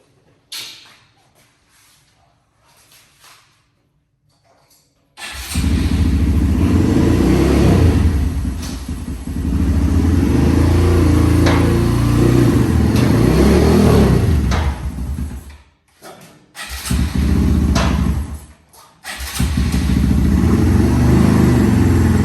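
A small Honda Grom motorcycle engine starts up after a quiet stretch and runs loudly nearby, its rough idle rising and falling with brief revs and short cutoffs.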